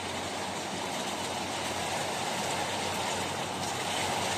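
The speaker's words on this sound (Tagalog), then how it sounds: "narinig nyo ang patak ng ulan" Heavy summer rain pours down in strong wind, a dense, steady hiss and rush that stays loud and unbroken throughout, with no voices.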